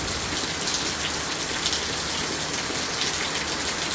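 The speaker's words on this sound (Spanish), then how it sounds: "Qué aguacero" Heavy rain pours down steadily in a dense, continuous hiss, drumming on surfaces close by with no pauses and no voices.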